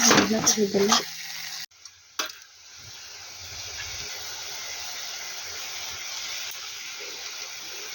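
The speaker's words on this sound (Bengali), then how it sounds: "ভাজা মশলা ভাজা হচ্ছে" Spice paste frying in a pan opens with a few loud scraping stirs and sizzling, then drops after a short break to a soft, steady background hiss of gentle frying.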